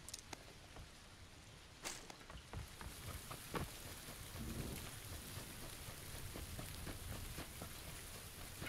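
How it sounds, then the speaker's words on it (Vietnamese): Rain falls steadily in the video game PUBG, a constant dense hiss with scattered sharp drop clicks and occasional dull thuds, and no voices. "Tiếng mưa rồi đổ lẫn lộn hết á."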